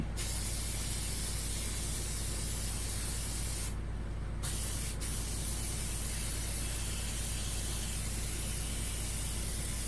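3M spray adhesive hissing steadily from a can onto foam, a loud continuous spray broken by one short pause and a brief gap near the middle.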